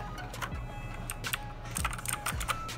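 Typing on a cheap mechanical keyboard, a fast, uneven run of close clicky keystrokes with sharper accents on some presses, heard alone without talk.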